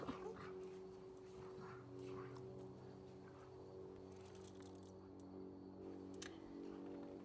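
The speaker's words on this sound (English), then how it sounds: "Those dogs." Dogs at an urban homestead bark in a string of sharp yaps and whimpering yips with a jangle of keys, set against a person talking and a steady low hum.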